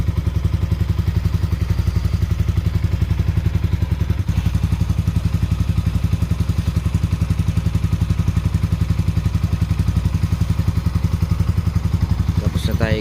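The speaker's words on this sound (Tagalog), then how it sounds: "Naging smooth na yung idle niya ngayon" A Sniper 155 motorcycle fitted with a newly installed Replica Pro exhaust idles smoothly and steadily up close, a constant low even pulse with a brief clatter near the end.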